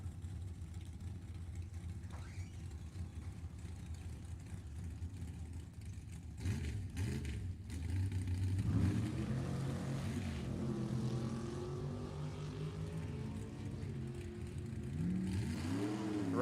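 A 1968 Camaro and a 1970 Nova launching down a drag strip, engines building from a steady low rumble into loud rising roars that carry on through the run.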